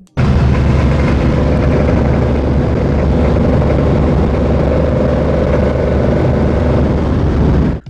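A faulty RV engine running at about 2700-2800 RPM gives a loud, steady drone with a continuous low rumble and a sustained mid-pitched hum, unbroken for nearly eight seconds with no voices.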